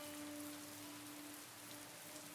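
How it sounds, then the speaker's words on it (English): Rain falls steadily in the video game Eastern Era, a soft, even patter that stays quiet and unbroken, with a faint low hum running underneath. "It is 1 Celsius outside and raining."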